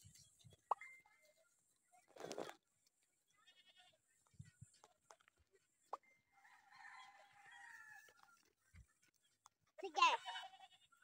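Goats bleat in short, scattered calls on a farm field, fairly distant and quiet, with a louder cry near the end and a rooster-like call mixed in among the quiet gaps.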